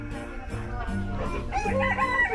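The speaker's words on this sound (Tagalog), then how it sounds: "ang tawag naman nga pala sa manok na ito ay American Silky" An American Silky rooster crows loudly and close, with clucking chickens around it in a short burst.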